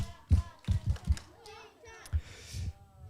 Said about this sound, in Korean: 칭찬 박수 시작